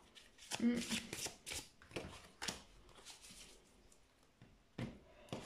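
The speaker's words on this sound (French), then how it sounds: "quand je bats les cartes" Tarot cards are shuffled close by in a quiet room, making a series of quick papery riffles and soft slaps in irregular bursts, with a voice speaking faintly in places.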